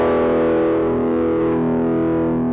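An electric guitar power chord rings out through a Providence Sonic Drive SDR-5 overdrive pedal, a thick sustained distorted chord held steadily and alone.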